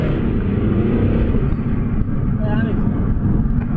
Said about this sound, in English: I like the noise you get from the turbo whistling